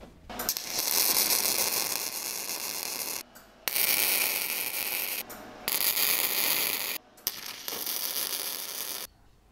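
A welder tacks a steel tail light bracket for a sissy bar, sounding as three loud sustained crackling bursts with short silent gaps between them.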